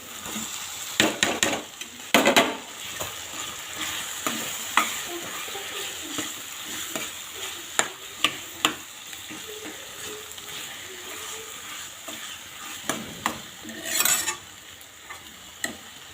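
Steady sizzling of paneer frying in a pan, broken by repeated scraping and clinking as a spatula stirs it, with no talking.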